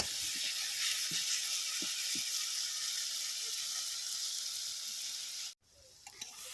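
Fish curry masala mixed with chili powder and turmeric powder fries in a pan for an Odia fish curry, giving a steady, close sizzling hiss with a few soft stirring knocks and a brief cut near the end.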